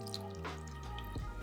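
A quarter cup of filtered water is poured into a bowl of meatball sauce ingredients with vinegar and herbs, giving soft drips and a brief splash, close and fairly quiet.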